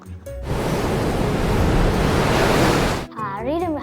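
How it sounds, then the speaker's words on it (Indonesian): Ocean waves roll and strong wind roars around a traditional Jung sailing ship at sea, making one loud, continuous rush of noise for about two and a half seconds. Quieter sounds come just before it, and a short tonal sweep follows after it cuts off. "Ombak mulai menggulung, angin pun menderu kencang."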